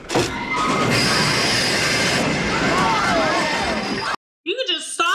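Train rolling on rails in a movie scene, a steady loud rumble with some wheel squeal over about four seconds, then a brief cut to quiet before people speak near the end.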